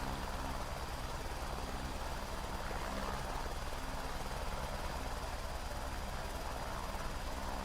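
A simulated helicopter in a flight simulator video game has collective added, its rotor beating in a loud, steady, rapid chop over a continuous engine whine and rushing air, with no voices.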